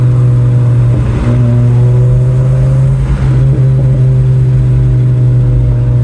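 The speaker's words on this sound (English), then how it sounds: "See, I'll downshift." Car engine with a performance tune downshifting, a steady loud drone with a brief shift in pitch around the gear change, close and continuous with no talking.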